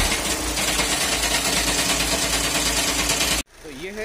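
A Volkswagen Passat engine idles after a dual-mass flywheel replacement, giving a loud, steady, close-up mechanical rumble with a fine rattling texture that cuts off abruptly near the end, followed by a brief voice.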